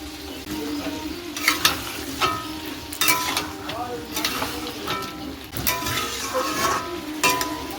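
Spices frying in a pan for chickpea curry produce a continuous low sizzle with intermittent spoon scrapes and clinks against the pan, close by, with a voice speaking over it.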